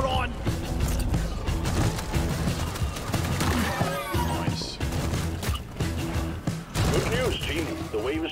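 Dense, continuous gunfire in the co-op mining shooter Deep Rock Galactic, with rapid automatic bursts and crashing impacts running loud throughout, while voices talk over the shooting.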